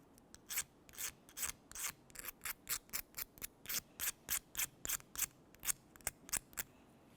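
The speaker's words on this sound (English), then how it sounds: "Now we're going to clean this off so it's a nice smooth surface. I'll use a flat razor blade." A flat razor blade scrapes a mounting surface clean on a 2005-2010 Chevrolet Cobalt during air injection check valve replacement, making about two dozen quick, rhythmic rasping strokes, close up and with no talking.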